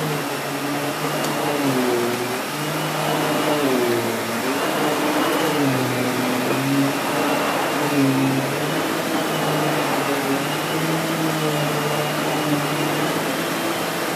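A Miele S5980 cylinder vacuum cleaner with an SEB236 powerhead runs continuously, a steady close motor whine whose pitch rises and falls slightly as the head is pushed back and forth.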